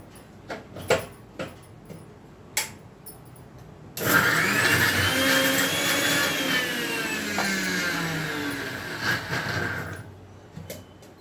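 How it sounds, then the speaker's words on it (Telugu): A kitchen mixer grinder whirs loudly as it grinds garlic, tamarind water and chili for a spicy red chutney. A few clicks and knocks come first, then the motor runs hard and steady for about six seconds and stops abruptly. "ఇప్పుడు మిక్సీ వేస్తాను"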